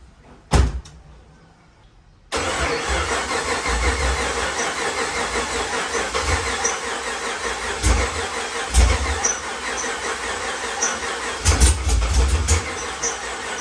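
A car engine cranks and catches after a thump and brief silence, then idles and revs loudly and steadily for several seconds, close by.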